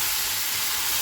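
Potato, squash, onion, tomato, ginger and garlic fry in a pan with a steady, loud, continuous sizzle and hiss that runs unbroken from start to finish.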